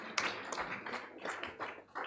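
Quiet scattered clapping from a small audience at a children's assembly election session in Nairobi, uneven claps coming in loose bursts.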